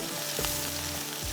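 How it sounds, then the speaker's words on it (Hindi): Onions fry in oil over a gentle flame for koftas, a continuous bright sizzle with a couple of soft stirring scrapes and a faint steady hum underneath. "थोड़ी सी हल्की सी आग में हम इसको फ्राई करते हैं"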